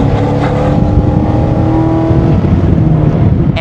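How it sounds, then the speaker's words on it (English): A supercharged 835 hp Cadillac CT5-V Blackwing with a Magnuson supercharger, running on Hoosier tires, accelerates hard on a race track, its loud, steady engine roar and supercharger whine filling the clip from start to finish. "the instantaneous throttle response of that Magnuson supercharger is so good"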